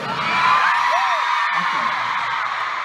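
A large concert crowd screams and cheers in a sustained roar that fills the space, with a few whoops rising above the mass of voices.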